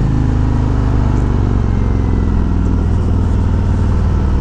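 A 2020 Harley-Davidson Road King Special motorcycle engine rumbles steadily and loudly close by, a deep, continuous idle running throughout with no talk.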